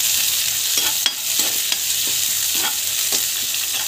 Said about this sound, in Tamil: ஸோ வெங்காயம் அப்புறம் மிளகாய் ஸோ நல்லா வந்து வதக்கிக்கோங்க.